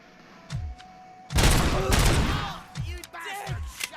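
Gunfire in the RoboCop Rogue City video game: a dense, loud burst of rapid shots cuts in after a short pause, with scattered reports and game voices shouting around it.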